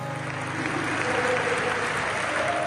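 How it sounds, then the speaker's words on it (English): Football fans in Bradford clapping in solidarity with Ukraine, a loud, continuous roar of crowd applause filling a stadium with no breaks, steady from start to finish. "Fans in Bradford clapping in solidarity"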